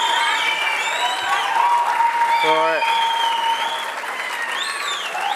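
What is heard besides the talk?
audience applause at shooting world cup final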